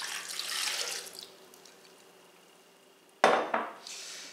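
Dissolved Jello liquid is poured into a Vitamix blender holding cream cheese, a close, splashy stream that fades out, followed by a sharp clatter and a second brief pour.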